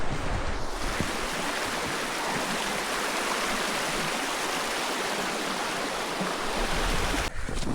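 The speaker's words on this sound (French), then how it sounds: "Il y a un esti de beau ruisseau à côté de moi." Mountain stream near Mont-Gosford rushing nearby, a loud, continuous broadband wash of flowing water with no voices.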